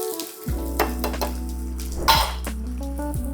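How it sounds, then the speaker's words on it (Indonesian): Onion sautéing in hot cooking oil in a pan for a creamy Korean-style rose pasta, a sudden loud sizzle bursting in near the start and then crackling steadily, with a few clinks of a utensil stirring and no talk. "Kita tumis bawang bombaynya."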